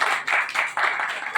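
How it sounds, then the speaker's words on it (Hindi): An audience claps together at a Women's Day lecture to applaud a young girl who hosted the stage, a dense run of handclaps swelling and dipping in several close waves. "इस बिटिया के लिए एक बार तालियां बजा दो"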